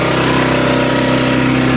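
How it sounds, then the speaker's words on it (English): Engine running inside its crate at an RV on a homestead during a power outage, a continuous steady loud drone with a constant even hum and no talking. "Now I've got the engine running in its crate in there"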